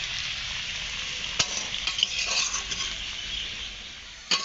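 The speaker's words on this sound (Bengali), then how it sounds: "মিনু মাংস রান্না করবে বলে মাংসের আলুটা ভেজে নিচ্ছে" Potatoes frying in oil in a pan while a meat curry is being prepared, a steady close sizzle with a few sharp pops and scraping stirs, no voices.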